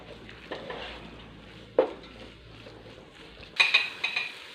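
A spoon scrapes and clinks against a pan as masala and green chillies are sautéed for fried chicken biryani. The knocks are close and irregular, with a louder clatter of stirring near the end.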